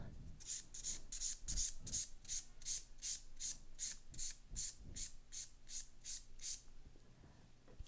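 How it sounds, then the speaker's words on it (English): A nail file rasps across a sculpted acrylic gel hybrid nail in a quick, even series of about fifteen close, soft scratching strokes, followed by quieter rubbing. "I'm going to dust off the nail and perfect my filing."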